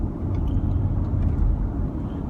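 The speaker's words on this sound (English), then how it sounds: "driving the 2020 Subaru Outback XT" A 2020 Subaru Outback XT Onyx Edition driving, heard from inside the cabin as a loud, steady low road and engine rumble with no one speaking.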